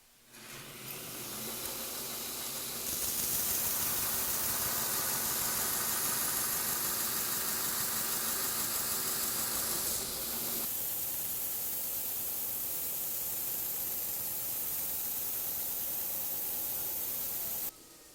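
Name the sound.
belt grinder grinding the master bevel of a custom knife blade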